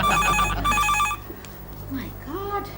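A telephone rings in short repeated bursts, loud and close indoors in a Hindi TV sitcom, then cuts off as a voice begins speaking.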